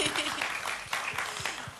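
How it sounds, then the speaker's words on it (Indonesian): Steady applause from a crowd, dense clapping running throughout with a few louder individual claps standing out. "Ya, tepuk tangan lagi."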